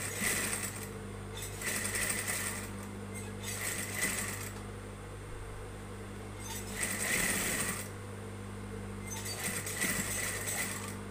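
Sewing machine stitching along the unsewn side of a garment, running in bursts of steady rapid stitching with short pauses between, close and fairly loud over a constant low motor hum.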